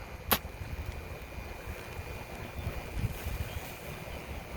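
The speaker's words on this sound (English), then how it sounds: "Okay, the wind is blowing." Wind blows steadily outdoors as a low broadband rush and buffets the microphone, with one brief sharp tick early on and no talk.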